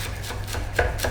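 A knife slices through rolled-up parsley on a cutting board in a home kitchen, giving a quick run of soft, close chopping taps in a steady rhythm, with no voices.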